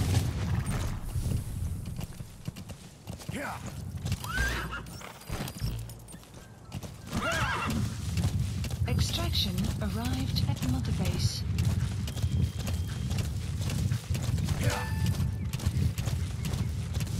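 Rhythmic hoofbeats of a galloping horse with a neigh, sandstorm wind noise and game effects in Metal Gear Solid V: The Phantom Pain, with a voice talking over it.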